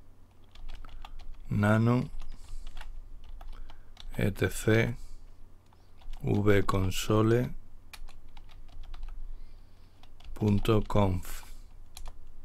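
Keys clatter on a computer keyboard during an Arch Linux installation while setting the keyboard layout: light, scattered ticks between stretches of someone speaking.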